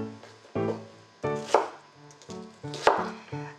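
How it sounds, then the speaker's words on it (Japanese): A knife chops onion on a cutting board during home cooking of chicken vegetable soup for a young child, giving a close, steady series of sharp chopping strikes with no talking. "玉ねぎも同じぐらいの大きさに切ってあげると食べやすいです。"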